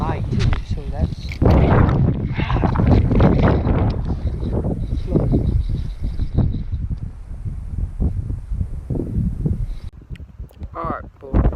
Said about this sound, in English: The wind makes it impossible to cast straight right here.